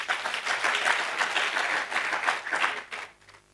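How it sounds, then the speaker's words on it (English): An audience at a university innovation competition breakout session applauds in a dense, steady wash of clapping that fades out near the end. "Shall we clap for ICI?"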